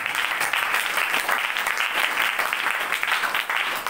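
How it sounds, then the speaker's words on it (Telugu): A church congregation clapping hands together at a gospel service, a loud, dense and continuous wash of applause sustained evenly throughout, with no voices rising above it. "చప్పట్లు కొట్టండి."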